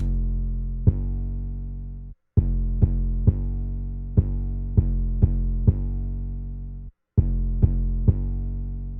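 A deep, sustained bass line of a song plays alone, with plucked notes in a steady repeating rhythm broken by two short pauses, loud and clean with no other instruments.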